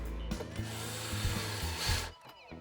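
A power driver runs screws into a seat stem part during a gearbox replacement on an MGI Navigator quad golf trolley, giving a few short whirring bursts with brief pauses, close and fairly loud.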